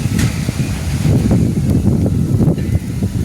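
Strong cold wind buffeting the microphone outdoors, a continuous low roaring rumble with gusts and no voices.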